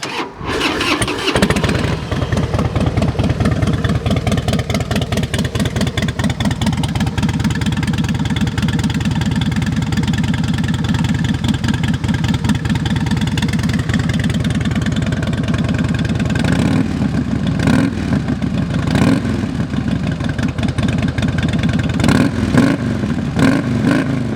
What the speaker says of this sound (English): Let's fire it up.